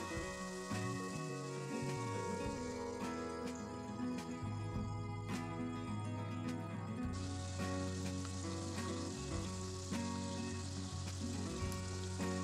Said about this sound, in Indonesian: Ini kita goreng hingga kecoklatan dan kulitnya sudah kering.